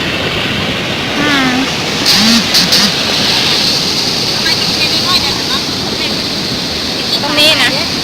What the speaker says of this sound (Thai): โอ้น้ำไหลแรงมากเลยค่ะ